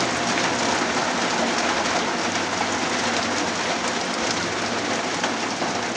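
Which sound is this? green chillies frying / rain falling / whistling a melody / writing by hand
rain falling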